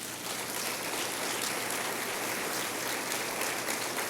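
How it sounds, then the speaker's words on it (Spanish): A church congregation claps for the Lord in a dense, continuous roar of applause, loud and even throughout with no talking over it. "Dale un aplauso al Señor."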